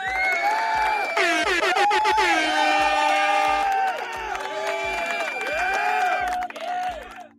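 A canned applause effect plays: a loud, dense crowd cheering and whooping with blasts of air horn, sustained for several seconds before thinning out at the end.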